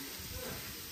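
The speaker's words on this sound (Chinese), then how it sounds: "搅锅炒鸡蛋" Eggs stir-fry in a large rural farmhouse wok, giving a steady, close broadband sizzle and hiss with no break across the short moment.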